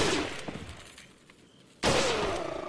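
Gunfire from the video game Resident Evil 4, a loud sharp report opening the clip with a ringing tail, a quieter stretch, then a second loud shot near the end.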